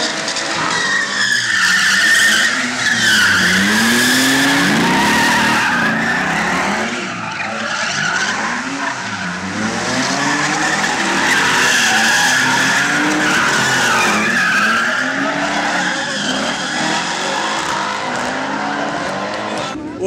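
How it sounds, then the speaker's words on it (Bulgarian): Two cars tandem drifting at a motorsport event, tires squealing and skidding continuously with engines revving and rising and falling, loud and sustained, while a voice talks over it. "Това е тандемен дрифт."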